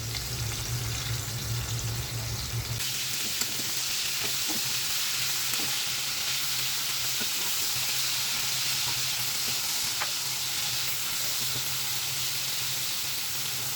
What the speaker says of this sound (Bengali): চিংড়িগুলোকে আমি মশলা মাখিয়ে রেখেছিলাম, এখন হালকা করে ভেজে নেব।